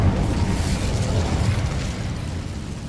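An Incendio fire spell is cast in a video game, a loud roaring whoosh of flame that dominates at first and slowly tapers off.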